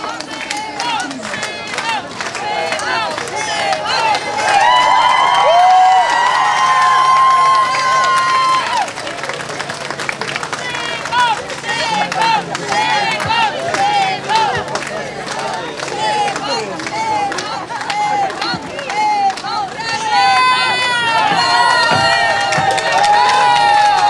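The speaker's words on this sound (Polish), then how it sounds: "I jeszcze raz wielkie brawa dla Szymona" A political rally crowd for Szymon Hołownia in Biała Podlaska cheers loudly, with shouting and chanting voices rising and falling over a continuous roar of the crowd. Scattered clapping runs underneath.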